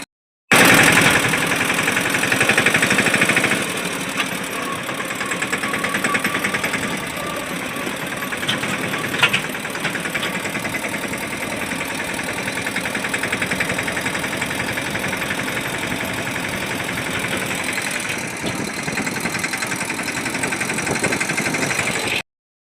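Farm tractor engine running at a village farm field, a close, steady idling rumble with a rhythmic knocking beat that continues unbroken from start to end.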